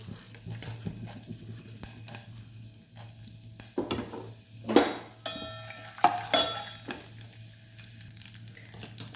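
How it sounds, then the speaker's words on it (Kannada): Urad dal, chana dal, fenugreek seeds and red chilies fry softly in a little oil with a low, steady sizzle, broken by sharp metallic clinks and scrapes of a spoon against the pan. "ಸ್ವಲ್ಪ ಎಣ್ಣೆ ಬಾಕಿದೆಲ್ಲ ಉದ್ದಿನಬೇಳೆ ಕಡಲೆಬೇಳೆ ಮೆಂತ್ಯಕಾಳು ಕೆಮ್ಮೆಣಸು ಎಲ್ಲ ಹಾಕ್ಕೊಂಡು ಲೈಟಾಗಿ ಫ್ರೈ ಮಾಡ್ಕೊಳ್ಳಿಕ್ಕೆ"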